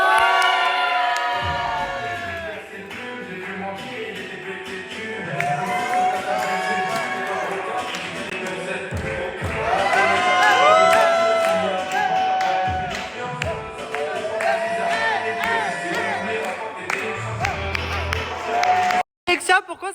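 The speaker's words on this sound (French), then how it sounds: "Merci d'applaudir Alexia." An audience claps and cheers at a costume show, with lively shouts and crowd noise swelling and fading over a long stretch, mixed with people talking and calling out.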